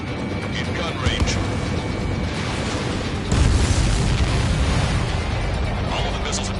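Missiles exploding in the Ace Combat 7: Skies Unknown jet-combat game, with rolling booms and bursts over a steady roar, one swelling louder mid-way, while voices speak over the din.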